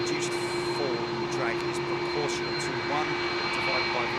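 Airbus A340-600 four-engine jet at London Heathrow, a steady engine drone with sustained whining tones, heard under ongoing conversation between people nearby.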